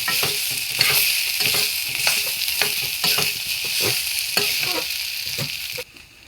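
A spice paste of onion, ginger, fennel, cumin and chilli sizzles loudly in hot oil, with a steady crackling hiss broken by repeated scraping strokes of a stirring spoon, cutting off near the end.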